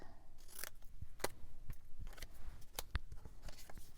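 Scissors cut paper for a 12x12 beach-themed scrapbook layout, giving several crisp, separate snips close by against a quiet room.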